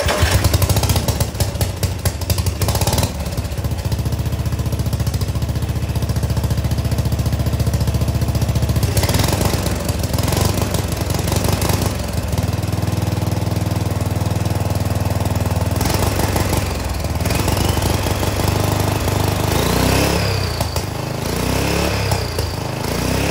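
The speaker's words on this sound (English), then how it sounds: "Let's see if this thing will make some turbo noises." A turbocharged lawn mower engine runs loud and close, its rough, knocking drone rising and falling through several revs with sharp bursts, sustained without talk.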